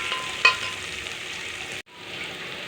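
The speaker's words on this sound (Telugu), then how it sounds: "ఉల్లిపాయ కొంచెం వేగనియాలి." Onion frying in a pan with carrot and potato for an upma-style dish, a steady close sizzle with a sharp stirring clatter near the start and a brief dropout before the frying resumes.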